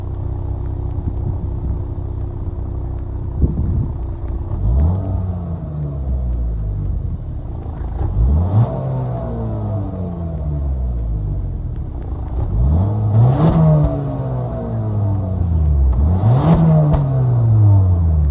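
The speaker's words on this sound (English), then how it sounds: "that was of course the sound of the 2-liter turbo 4-cylinder sold by Acura for the 2022 RDX" A 2022 Acura RDX A-Spec with a 2-liter turbocharged four-cylinder idling after start-up, then revved several times, each rev a rising and falling engine sweep over a steady rumble, close and loud.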